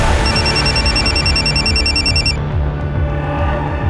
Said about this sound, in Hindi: सर वो रूपाली जी के असिस्टेंट तुषार का फ़ोन था, वो पीहू की इंक्वायरी कर रहा था।